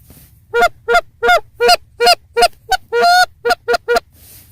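Geese outdoors in the morning honk loudly and close by, about a dozen sharp nasal honks in a quick uneven series, one call held longer near the end, with no talk.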